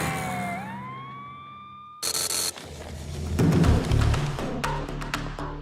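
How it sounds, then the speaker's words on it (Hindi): An emergency siren wails loudly with rising, sweeping tones, then gives way to busy traffic and vehicle noise in a crowded street. "पहले एम्बुलेंस को रास्ता दो।"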